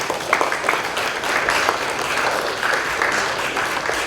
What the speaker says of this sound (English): I think we have to give a good round of applause to him for the way he spoke